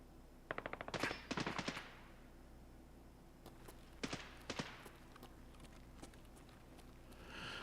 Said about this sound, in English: I think a lot of the shooting I was hearing is upstairs.